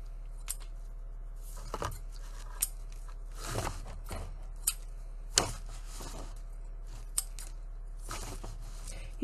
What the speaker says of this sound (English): it's almost like a champagne colored glittery ribbon. So I'm going to cut off some various lengths.